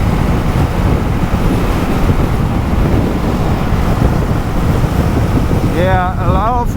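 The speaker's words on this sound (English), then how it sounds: "a lot of wind flow naturally" Steady, loud wind roars and buffets across the microphone on a 2022 Kawasaki Vulcan S naked motorcycle riding at speed, a continuous rushing noise throughout.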